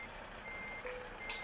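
Faint, steady reversing beeps from a truck parking in Euro Truck Simulator 2, heard softly over a low engine hum.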